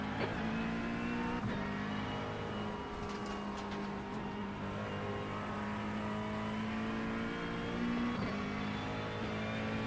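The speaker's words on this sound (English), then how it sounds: "There's a car approaching." A race car in iRacing running steadily at high revs with a constant droning engine note and occasional shifts, loud and close throughout with no talk.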